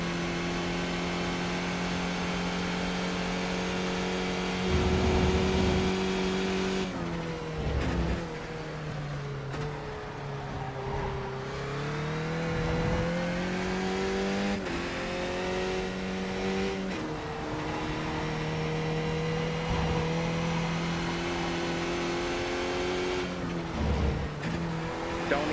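A race car engine in a racing video game drones and revs steadily, its pitch rising and dipping with shifts and throttle changes, loud and continuous throughout.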